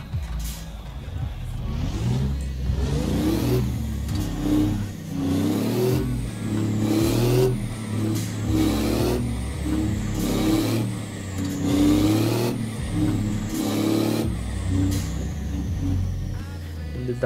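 Scania Super truck from a Euro Truck Simulator 2 mod, fitted with a very wide exhaust pipe, rumbles steadily with a deep, not-too-raspy engine note that rises and falls in repeated revving surges, with someone talking over it.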